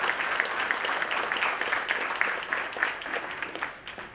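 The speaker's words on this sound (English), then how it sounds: "I would like you all to welcome him with a big round of applause" An audience gives a round of applause at an investment interview event, a dense, steady wash of clapping at moderate level that thins out near the end.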